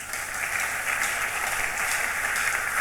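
A church congregation at a prayer retreat applauds steadily, a dense, continuous wash of clapping from many hands filling the room, with no talking.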